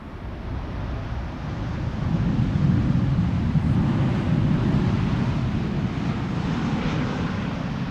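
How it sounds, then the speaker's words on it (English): Embraer 175 airliner arriving at Amsterdam Schiphol Airport in gusty crosswinds, a steady broadband roar that swells and then holds, with wind buffeting the microphone. "Looks like an Embraer 175 arriving from Nice will be next after that."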